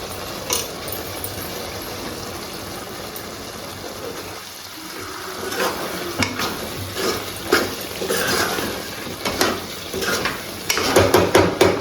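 Coriander being stirred into chicken curry in a pan: continuous sizzling and wet frying with scraping strokes and small clinks of the utensil against the pan, close and fairly loud, with no voices.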